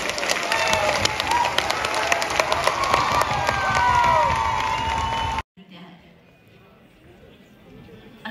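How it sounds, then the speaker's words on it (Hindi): An outdoor crowd at a Republic Day celebration, gathered in bad weather, cheers and claps with shouts and voices mixed in, loud for about five seconds before cutting abruptly to quieter background murmur. "तालियों में कमी नहीं होनी चाहिए।"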